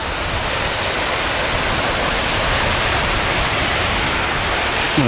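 Waterfall cascades at a karst resurgence in the Val de Molières, a dense, steady broadband rush of falling water filling the scene, loud and continuous with no voices.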